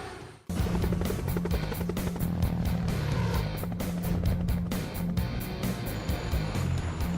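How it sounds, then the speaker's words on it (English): A helicopter roars overhead, a loud, steady drone of engine and thudding rotor that starts abruptly and holds without a break. "They wanted a stealth helicopter."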